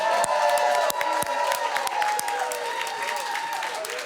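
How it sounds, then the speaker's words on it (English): A television studio audience claps and cheers steadily, loud at first and easing slightly over a few seconds, with occasional whoops. "a big round of applause for Ngāti Raukawa Greens, Denise Roche."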